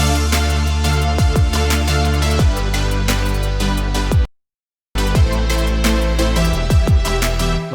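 A full music mix plays with mid-side mastering processing applied, loud and dense with punchy drum hits throughout. A half-second dropout to silence falls near the middle before the music resumes.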